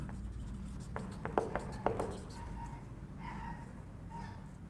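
Chalk or marker writing on a classroom board during a physics lesson, a few quick sharp taps and scratchy strokes close by, then softer rubbing strokes with no talking.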